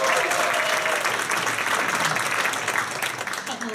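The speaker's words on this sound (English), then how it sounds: "Give them a round of applause" A theater audience gives a round of applause, with dense, steady clapping filling the whole stretch and tapering only slightly toward the end.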